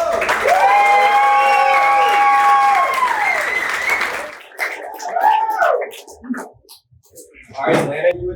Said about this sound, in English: Make some noise for Clint Crowe.